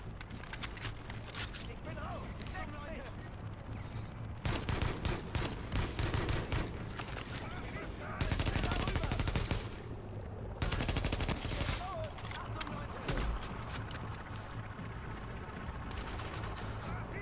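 Rapid bursts of gunfire in the shooter game Tom Clancy's The Division, dense automatic volleys that start and stop in several loud stretches, with sharp cracks layered over a constant background rumble.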